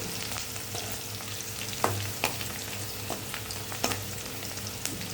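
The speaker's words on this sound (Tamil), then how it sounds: "இப்போ அங்கே வந்து பூண்டு வெந்துக்கிட்டு இருக்குது." Crushed garlic frying in a pan of oil, a steady close sizzle with a few sharp clinks of a spoon stirring against the pan, no voices present.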